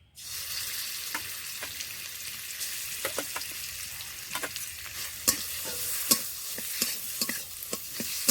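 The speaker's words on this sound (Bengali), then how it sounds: "গাজরটা দিয়ে একটুখানি ভেজে নিতে হবে" Carrot paste fries in ghee in a hot wok, a soft continuous sizzle broken by regular sharp scrapes and clicks of a stirring spoon, close and alone without speech.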